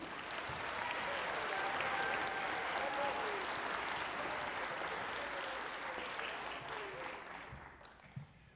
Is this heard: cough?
no